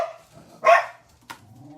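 A dog gives a single sharp, close bark indoors, followed by a brief snap-like sound and faint low whimpering in a quiet room.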